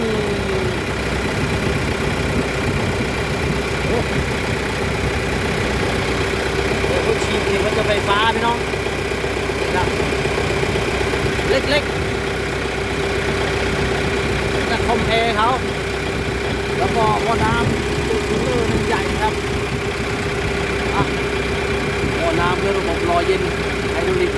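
The four-cylinder turbo engine of a JGM wheeled log loader idles with a continuous, even drone, while someone talks intermittently over it at close range.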